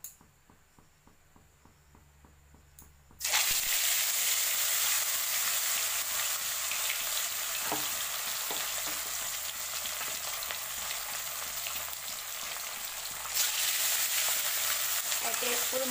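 Pieces of katla fish sizzle loudly as they are dropped into hot oil in a wok, a quiet start giving way to a sudden burst of steady, crackling frying that continues without talk.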